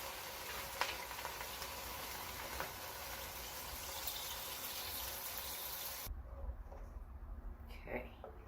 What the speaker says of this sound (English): We're going to deglaze that pot with the veggie broth.